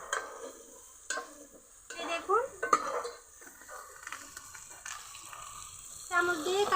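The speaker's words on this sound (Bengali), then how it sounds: "আমি সবজিগুলো আশি পার্সেন্টের মতো ভেজে নিব একদম পুরোপুরি ভাজা যাবে না" Vegetables fry in a pan with a soft sizzle, broken by clanking stirs of a utensil against the pan, while a voice speaks intermittently.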